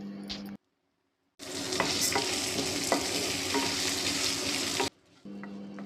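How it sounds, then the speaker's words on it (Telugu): A tempering of spices with dried red chili pieces crackles and sizzles in hot oil, a dense steady frying hiss with small pops, starting abruptly after a brief pause and stopping cleanly. "ఈ పోపుని బాగా వేయించుకుందాం"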